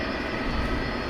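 Boeing 757 cargo jet operated by DHL at an airport at night, a steady loud engine roar with broad rushing noise, constant and unbroken through the moment.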